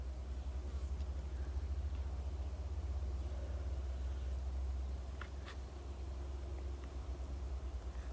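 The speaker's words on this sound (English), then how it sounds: "So already I can hear the cars going across the highway back here" Traffic on a highway behind the listener gives a steady low rumble, with a few faint birds chirping briefly near the end.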